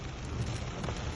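Steady, dense rain pours down during a storm in Oman's Hajar Mountains, a close, unbroken wash of drops hitting surfaces with no voices.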